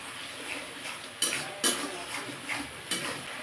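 Ginger garlic paste sizzles in a pan for a rui fish curry as a spoon stirs it, giving several distinct scrapes and clinks over a low, continuous frying hiss.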